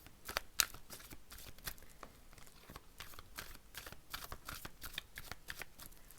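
Tarot cards being shuffled and drawn by hand, a quiet, close run of crisp flicks, riffles and soft slaps in an irregular rhythm.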